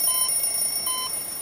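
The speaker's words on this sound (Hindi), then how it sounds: "ये अलार्म क्यों बज रहा है?" A bright electronic alarm clock in the Death Park horror game rings in two short high-pitched bursts, loud and near, with no voices.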